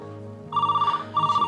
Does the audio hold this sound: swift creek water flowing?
no